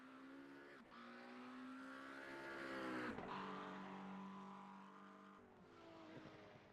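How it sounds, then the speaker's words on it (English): A GT race car engine in a sim racing game at the Algarve circuit revs hard, its rising whine cut by sharp upshifts as it climbs repeatedly, loud and close with no talk. "Don't you just love the roar of that engine?"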